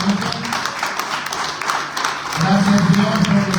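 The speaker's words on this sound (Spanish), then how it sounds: "¿Cuánto le da un aplauso al Señor esta noche?" Church congregation giving applause to the Lord during an evening service, loud close clapping that swells toward the end with voices mixed in.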